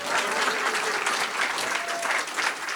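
Audience applause at a swim-in commemoration event in Baton Rouge, dense continuous clapping that holds steady throughout with a faint voice underneath.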